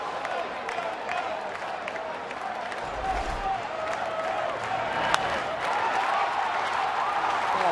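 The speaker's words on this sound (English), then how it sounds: "They haven't stopped cheering since." Pittsburgh Pirates fans cheer and applaud at the ballpark during an Arizona at Pittsburgh baseball game, a steady wash of distant crowd noise and clapping that holds throughout without letting up.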